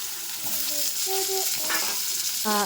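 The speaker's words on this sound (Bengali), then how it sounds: "এক এক করে সব মাছ আমি এখন ভেজে ফেলছি" Fish sizzling steadily in hot oil, loud and close, with a few brief tonal clinks and stirring sounds over the constant crackle.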